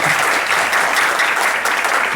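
Loud, continuous clapping fills a church service as the congregation applauds again, a thick even roar of hands with slight swells and no speech.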